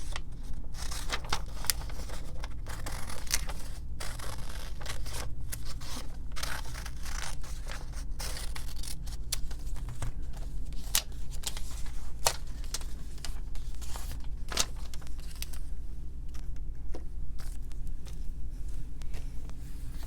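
Scissors roughly cutting around pictures on glossy magazine pages for a glue book, steady irregular snips and paper rustles over a constant low hum, close and moderately loud.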